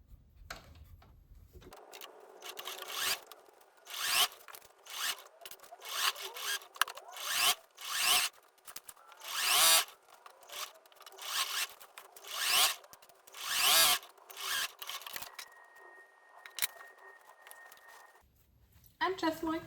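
A sewing machine stitching close to the upper edge of a shorts hem, running in repeated short whirring bursts with brief pauses between them, fairly close and steady.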